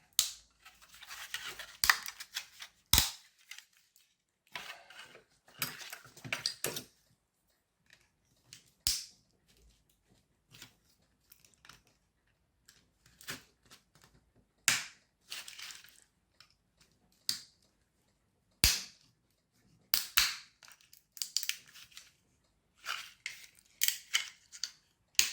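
Support raft being snapped and broken away from a 3D-printed plastic RC car chassis for a Lamborghini Veneno police car conversion: sharp irregular cracks and crunching snaps in scattered bursts, close and alone with no talk.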